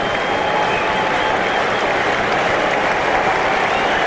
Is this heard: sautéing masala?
no